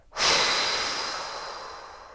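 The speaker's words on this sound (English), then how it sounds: "Then whoosh that breath out as you push it out through your mouth." A single forceful exhale pushed out through the mouth, a loud breathy whoosh that starts abruptly and fades slowly over about two seconds, heard alone and close up.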